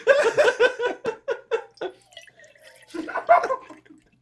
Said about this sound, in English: sound of body armor pouring into a stainless steel cup